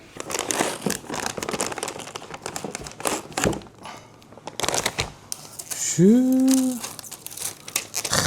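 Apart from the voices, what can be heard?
peeling protective plastic film off a graphics card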